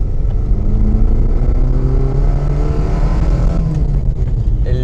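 A Fiat Panda 4x4 engine hums loudly and steadily while driving on a dirt road, a close, droning motor note with a slight rise in pitch partway through and no voices.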